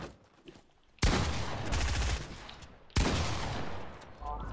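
Loud automatic gunfire erupts in Fortnite in two long sustained bursts, a quieter stretch of game sounds before it and a short pause between them.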